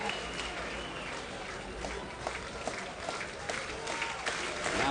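Baseball crowd at a Princeton vs Auburn game cheering and applauding after a strikeout ends the inning, a sustained mid-distance roar of clapping and shouts with a few sharper claps mixed in.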